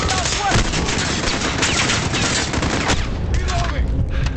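Rapid machine gun fire rattles continuously in a Call of Duty Modern Warfare battle, dense bursts filling the scene with a few faint voices underneath.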